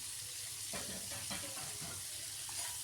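Chicken pieces frying in oil for biryani, a soft continuous sizzle with scattered stirring clatter, fairly quiet and without speech.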